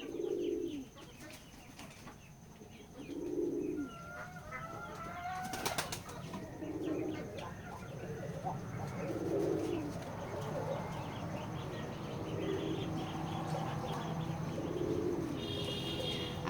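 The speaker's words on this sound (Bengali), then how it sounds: "দেখতে পাচ্ছেন আমাদের খামারে অনেকগুলো কবুতর আছে" Several pigeons coo in soft, repeated bursts at a pigeon farm in a village, with occasional wing flaps and faint chirps in a quiet background.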